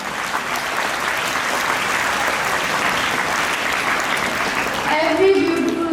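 Audience at a farewell ceremony applauding after an emotional song, with dense, steady clapping from a sizable crowd holding even and loud before a voice cuts in near the end.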